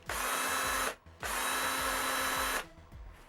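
A Tekhmann i20 series cordless drill whirs loudly in two sustained bursts with a short pause between, close up, followed by a quieter tail of clicks and handling.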